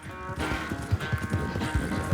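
A horse gallops in the video game Red Dead Redemption 2, its hooves drumming in a fast, steady clip-clop rhythm, fairly close and loud, with faint background music.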